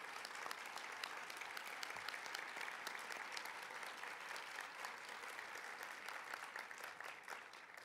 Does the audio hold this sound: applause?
yes